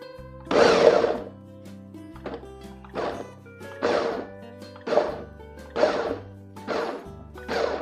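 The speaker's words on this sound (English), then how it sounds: "So I got my blender on" A blender whirs in short bursts, about eight pulses roughly a second apart, each a loud chopping roar that stops abruptly before the next.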